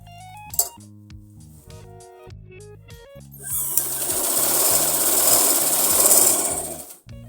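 A sewing machine stitches along the folded fabric edge of a plazo, with a quick run of needle clatter starting partway through after quieter handling clicks. Musical tones play underneath.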